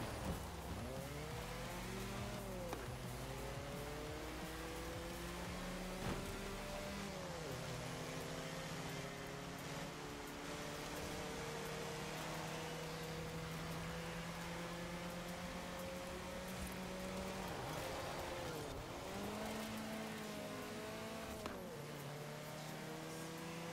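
A high-revving car engine in Forza Horizon 4 screams through repeated gear changes, with rising pitch sweeps and brief drops between shifts, loud and continuous for over twenty seconds with no talk.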